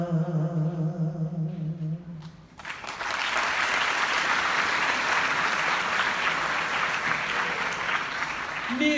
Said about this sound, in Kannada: ಚಪ್ಪಾಳೆ ಹೊಡಿತೀರಾ